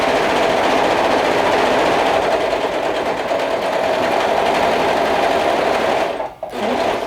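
A serger sewing machine runs fast and steady as it gathers fabric, whirring loudly and continuously up close before briefly stopping near the end.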